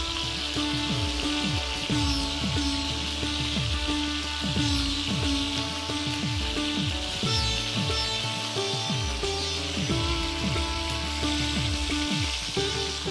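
Prawns with the shells left on frying in oil in a pan on a gas stove, a steady loud sizzle with crackling pops running throughout, no voices.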